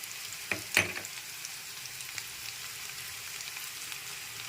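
Ground spices and ginger paste stirred in a hot pan, a faint low sizzle broken by a couple of sharp scraping clinks of the spoon near the start.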